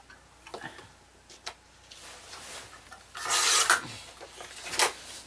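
Paper for a handmade mini album is trimmed with a rasping cut, preceded by small ticks and taps, and a louder scraping pass follows near the mic, with no talking.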